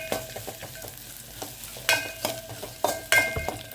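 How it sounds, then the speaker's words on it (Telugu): Ginger paste is stir-fried in a pan with a quiet sizzle underneath, broken by repeated sharp scrapes and knocks of a spatula against the metal in an uneven rhythm. "కొంచెం ఇలా వేయించాలి, ఆ ఫ్లేవరే వేరండి అసలు. అల్లం వేసి మంచిగా కలిపితే"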